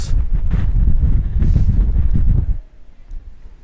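Loud wind buffeting a microphone outdoors in open scenery near a ruin, heavy low rumbling gusts for a few seconds before dropping off abruptly to a quieter breeze.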